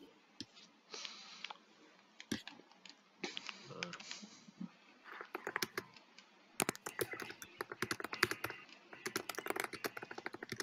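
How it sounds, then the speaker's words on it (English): Quick, uneven clicking of keys on a computer keyboard during a scrim match, bursts of typing with sharp taps, faint voices occasionally underneath. "Who's typing?"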